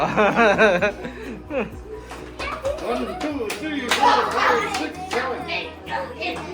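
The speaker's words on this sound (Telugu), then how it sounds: "ఇప్పుడు అందరు క్లాప్స్" Children clap their hands at a birthday party, a scattered burst of claps mixed with excited kids' voices, chatter and giggles, fairly close and lively.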